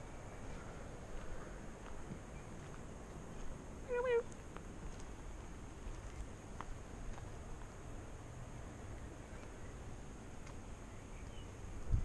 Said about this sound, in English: A cat right here.